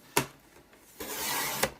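A paper trimmer blade slicing through A4 card, with a brief snap as the card is placed, then a longer scraping slide of the blade ending in a sharp click, close and quiet.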